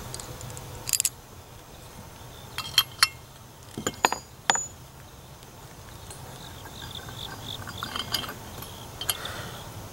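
Bolts are unthreaded from a hunting tree saddle platform, producing a handful of sharp metallic clinks and ticks clustered close together, then quieter faint scraping and handling noises, with no voices.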